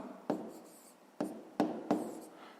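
A maths calculation being written out by hand: four quick, close pen or chalk strokes in uneven bursts, each a short scratchy stroke, with quiet pauses between.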